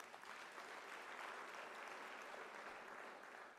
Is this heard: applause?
yes